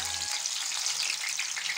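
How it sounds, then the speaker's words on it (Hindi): Sliced onions hit hot oil in a kadhai and fry with a steady, loud, crackling sizzle that fills the clip, with a brief low thump at the very start as they go in. "अब यहाँ पे प्याज को हमें डालना है तेल में"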